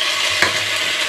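Onions sizzling in a pot for onion soup, a brief steady frying hiss with one quick stirring knock partway through.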